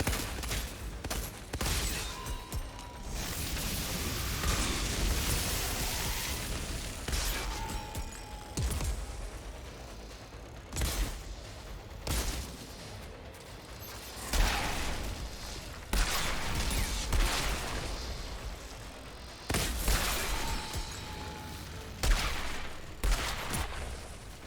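Gunfire in the video game Outriders: bursts of rapid shots and sharp cracks come in irregular volleys over a busy background, loud and close, separated by brief lulls.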